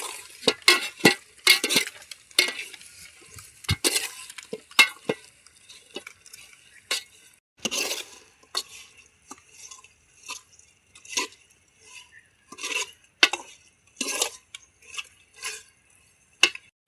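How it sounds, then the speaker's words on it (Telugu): A spoon stirs chicken curry with turmeric in a metal pot outdoors under a tamarind tree, irregular scraping clinks and taps in uneven bursts, close and clear with quiet gaps between. "దీన్ని మంచిగా కలుపుకుందాం"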